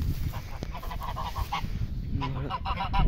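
Geese at a breeding farm honk repeatedly in loud, nasal calls, several overlapping in quick runs from close by, over a rustling farmyard background.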